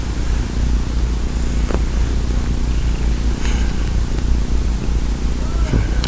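A cat purrs in a constant low rumble, loud and steady throughout, with faint scattered sounds over it.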